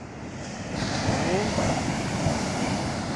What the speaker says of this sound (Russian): Очень сильная волна пошла.